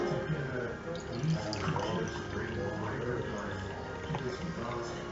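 Full Throttle energy drink poured into a wine glass: a steady liquid splash and trickle under fairly quiet background noise, with no clear talking.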